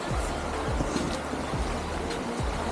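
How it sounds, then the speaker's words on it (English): River rapids in Trelawny, Jamaica, a steady rushing wash of water heard close and continuous, with some low thumps and no talking. "Listen to the water."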